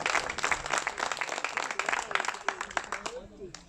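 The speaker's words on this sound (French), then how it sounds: "que je vous demande d'applaudir très fort" Applause from a political rally audience in Machecoul, a dense patter of many hands clapping steadily for a few seconds, with voices mixed in and the clapping thinning toward the end.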